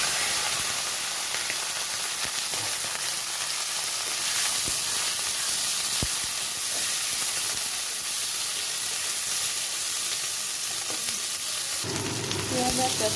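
Onion and capsicum sizzle steadily in a hot pan for chilli mushroom, a constant close frying hiss with a brief stirring clatter near the end.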